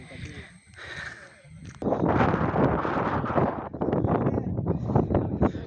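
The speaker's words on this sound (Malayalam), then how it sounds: "സൂപ്പറായിട്ടുള്ള കാറ്റുണ്ട്" Gusty wind on a hillside in the Sahyadri mountains, loud buffeting roar against the microphone that surges after a quieter start and stays strong, with people talking nearby.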